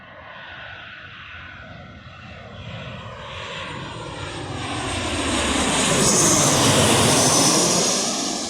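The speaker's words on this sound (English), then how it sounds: "it's taking off real fast because it's got to make way for the other plane" A passenger plane takes off, its jet engine roar building steadily from a distant rumble to a loud, broad blast that peaks and starts to fade, with no voices heard.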